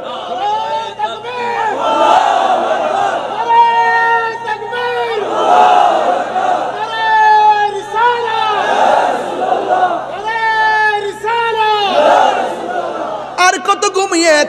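A large crowd at an Islamic waz gathering in Cumilla chants slogans for Palestine in loud, rhythmic call-and-response bursts, with a leader's voice driving each repeated phrase.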